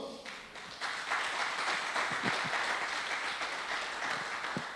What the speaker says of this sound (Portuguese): Você pode dar um aplauso ao Senhor?